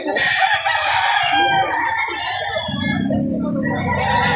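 A rooster crows loudly at a Lipa City chicken market stall among many breeds, one long drawn-out call close by over steady market bustle, followed by lower clucking and background noise.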